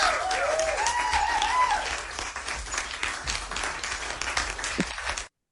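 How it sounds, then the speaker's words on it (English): Steady applause from a crowd, many hands clapping continuously for about five seconds, with a brief whistle-like tone early on, then stopping abruptly. "There you go. Some applause."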